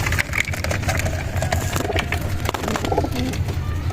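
Pigeons coo in a loft amid a busy, noisy background with rustling and scattered clicks, the cooing low and continuous throughout, with no speech.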